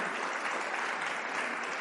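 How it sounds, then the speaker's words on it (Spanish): A church audience applauds the Lord with steady, even clapping that fills the whole short stretch, soft and somewhat distant, with no voices over it. "denle un aplauso al Señor si lo quiere dar"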